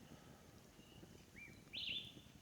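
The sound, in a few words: birds singing in the morning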